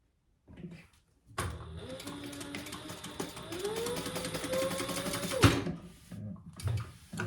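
A sewing machine stitches a zippered crossbody bag in a steady, close mechanical run of a few seconds, with softer handling clicks before and after.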